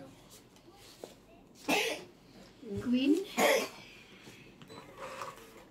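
A person coughs a few times in short, harsh bursts close by, with a brief spoken word and quiet room noise around them.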